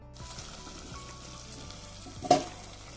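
Raisins and cashews frying in a pan for sweet pongal, a low steady sizzle with occasional light stirs and one louder clatter near the end, close and fairly quiet.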